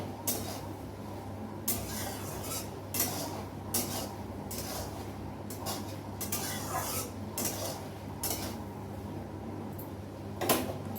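A spoon stirs fish curry in a metal pot, knocking and scraping against the sides in irregular bursts. The clatter comes from close by and repeats over a low kitchen background.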